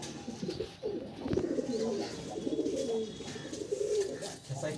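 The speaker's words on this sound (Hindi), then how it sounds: "तो नेक्स्ट देखिए सब हाई फ्लाइंग कबूतर है।" Fancy high-flying pigeons coo softly in a loft, low, repeated throaty calls overlapping one another at a fairly faint level, with people speaking faintly in the background.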